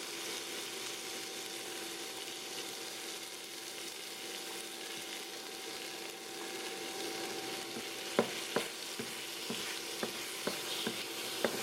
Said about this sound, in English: put oil, and then throw the rest of the beef and add the garlic.